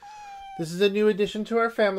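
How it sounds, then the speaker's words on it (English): A pet cat meows under a desk, giving a thin, high meow at first and then several louder, drawn-out meows while a person talks over it close by. "my cat is running around underneath my desk right now and meowing"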